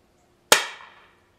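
A single sharp pop from an IZH Drozd CO2-powered BB pistol, close and loud, with a brief ringing decay and no talk.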